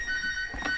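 A motor scooter's key reminder buzzer gives a steady, fairly loud electronic beeping tone up close, with a brief clunk near the end.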